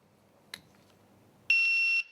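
CED7000 shot timer gives its countdown start signal: after a faint click, a single loud, steady electronic beep lasting about half a second rings out clearly with no talking.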